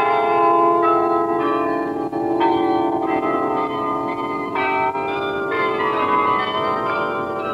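A carillon in Canberra, Australia, housed in three white quartz-faced concrete towers by a lake, rings a slow melody of clear, resonant bell tones that overlap and linger, loud and continuous with no voices.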